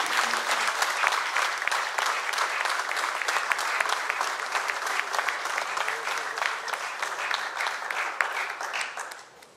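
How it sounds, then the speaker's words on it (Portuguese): Sustained audience applause honoring award recipients at a memorial monument ceremony in Amarante, a dense steady roar of many hands clapping for several seconds before thinning out at the end. "Pedíamos uma salva de palmas aos agraciados."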